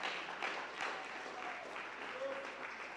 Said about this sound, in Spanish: Denle un fuerte aplauso a nuestro Dios.